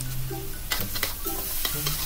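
Seasonings are stirred and fried in a pan for Thai egg fried rice. A steady sizzle runs under repeated scraping, clanking strokes of the spatula against the pan.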